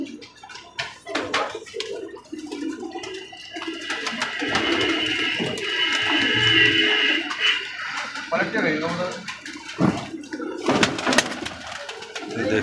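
Pigeons in a loft coo softly at close range, mixed with rustling, splashing water and handling noise, while someone talks over much of the scene.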